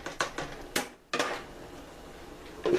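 A lid set onto a pot of sausage stew gives a few sharp metallic clanks and clinks, close and fairly quiet, with a brief silence and then one more clatter at the end.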